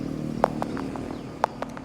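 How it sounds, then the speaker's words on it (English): A car engine idles outside a house after dark, a steady low rumble running throughout with a few sharp clicks on top. "Could we talk away from the idling car?"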